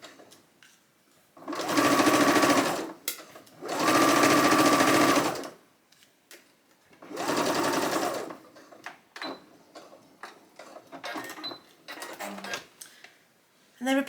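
A sewing machine stitches the seams of a woven blouse in three loud, steady bursts of roughly one to two seconds each. Quieter handling noises and brief pauses fall between the bursts.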